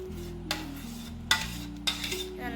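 A fruit salad mix is stirred in a bowl, with a few distinct scraping and clinking strokes against the container between quieter pauses.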